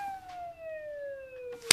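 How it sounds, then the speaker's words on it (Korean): A police car siren wails in a Korean TV drama scene, a steady, slowly falling electronic tone heard faintly at a distance, ending with a brief sharp click. "이게 무슨 소리야? 동네 도둑이라도 들어서 경찰차라도 온 거."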